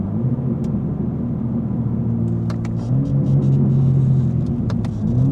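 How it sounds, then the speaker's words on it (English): A BMW G82 M4 drives with its exhaust droning low and steady from inside the car, rising in pitch midway as it accelerates, with faint ticks and clicks over the top. "I love that exhaust note"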